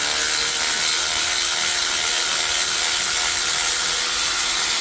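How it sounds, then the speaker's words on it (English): A ratchet working a bolt on the water pump housing of a 12th-generation Toyota Corolla E210, using an inverted Torx E8 or 6mm socket: a loud, steady, close-up clicking of the pawl that runs without pause. "remove this bolt here, I'm going to use the inverted Torx E8 is the number, or I just tried with a 6mm socket"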